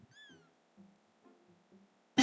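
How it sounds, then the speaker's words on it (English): A cat in a visual novel game meows at a plate of food, one clear rising meow followed by a few soft, quieter chirps and murmurs, ending in a brief sharp noise. "Mia meows as she sniffs at the plate before Philia pulls it away."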